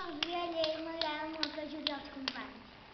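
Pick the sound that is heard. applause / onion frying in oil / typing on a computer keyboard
applause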